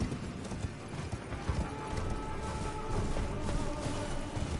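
Horse hooves galloping in the Elden Ring video game, a steady clip-clop of hoofbeats running under a dense game soundscape with mechanical clanks, continuous and fairly loud throughout.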